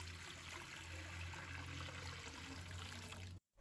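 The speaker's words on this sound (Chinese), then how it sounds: "准备一口锅，加入适量的清水。" Clean water pours steadily into a cooking pot for a kitchen dish of snow peas, a close, continuous splashing trickle that runs for several seconds and then cuts off abruptly.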